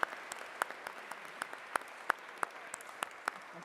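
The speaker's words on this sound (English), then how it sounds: "A huge round of applause for my panel." Sparse applause for a panel at the Co-op Congress 2025 conference: a handful of distinct, irregular claps spaced apart, fairly faint over a quiet room, with no voices.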